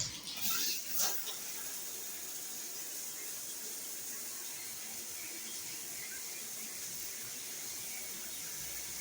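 Water from a shower runs in an even, soft hiss that carries on for the whole stretch after a brief squeaky handling noise at the start.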